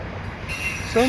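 An intermodal container freight train rolls past with a steady rumble and faint wheel squeal, close and continuous.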